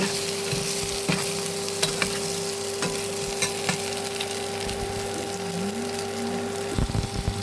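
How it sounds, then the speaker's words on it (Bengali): Steady hiss of potatoes frying in hot oil, with occasional scraping stirs and a faint background hum, close and continuous. "তেলটা গরম হতে আলুটা লাল লাল করে ভাজছি"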